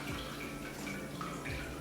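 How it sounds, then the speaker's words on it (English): Cold tap water runs steadily over wild Atlantic salmon fillets in a strainer, a continuous close splashing rush with no talk. "So I'm going to wash them in cold water."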